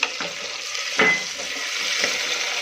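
Cut potatoes tipped into a hot pan of oil in a home kitchen, giving a steady frying sizzle with a brief louder burst as they land and faint stirring scrapes afterward.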